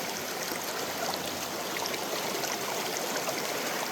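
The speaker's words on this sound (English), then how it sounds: "Running the sluice." Steady rushing and trickling of water running through a gold prospecting sluice outdoors on Pennsylvania glacial till, a continuous broadband wash close by with no talk.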